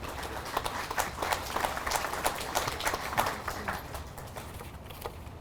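Dense, steady applause from a crowd at a police department memorial service, honoring a minister and chaplain after the national anthem, sustained and fairly close for several seconds with no talking over it.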